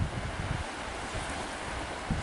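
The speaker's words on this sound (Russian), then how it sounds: "а ветер так и не утихает" Strong wind and rough waves on a stormy lake during a fishing outing, a steady broadband roar of gusts and surf with low buffeting against the microphone, continuous and fairly loud throughout.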